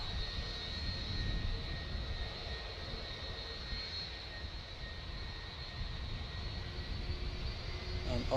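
At Manchester Airport, an airliner starts its departure with a steady, fairly faint jet engine drone and a thin high whine, holding level for several seconds with no talk.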